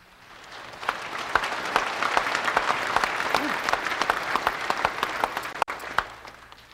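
Audience applause during a formal political speech in a hall, a dense, sustained clapping wash swelling and continuing for several seconds, with a few louder individual claps standing out near the end.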